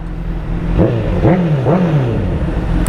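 A Honda CBR1000RR sportbike with a full SC Project exhaust system idles loudly, then gets three quick throttle blips in a row, each rising and falling sharply, close up and with no speech.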